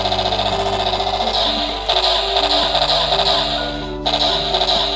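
A CSM Ride Booker toy sword-gun sound effect blares continuously for several seconds, a loud electronic burst of rapid-fire shots with a pulsing rhythm and a brief break near the end.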